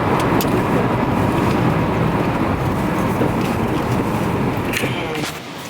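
A car driving on the road toward Baltimore, a steady loud rumble of engine and road noise filling the whole stretch before easing off slightly at the very end.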